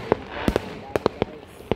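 New Year fireworks bursting in a rapid series of sharp, loud cracks and booms, roughly eight pops spread irregularly over two seconds, with faint voices and crowd noise underneath.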